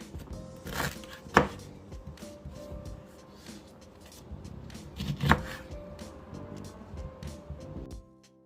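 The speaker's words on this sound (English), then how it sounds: "we're gonna go ahead and cut our ginger" A knife cuts through fresh ginger on a board in a home kitchen, irregular thuds and taps with two sharper knocks, fairly soft and close, with no talk.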